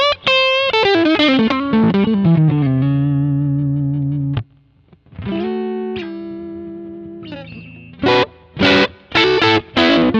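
A G&L ASAT Special electric guitar on its neck pickup at full volume plays a run of bright, distorted notes with chorus-like shimmer, then sustained tones and a few short stabs, loud and alone.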